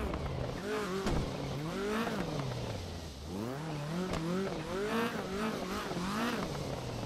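A rallycross car slides around a rallycross course in a racing game, its engine revving up and down in repeated rising and falling sweeps, with tire noise underneath as it drifts.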